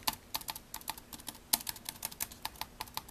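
Repeated key presses on an i-rocks IRK01W pantograph keyboard, including the Enter key, a string of light, bouncy clicks in an uneven typing rhythm, close and clear with no talking.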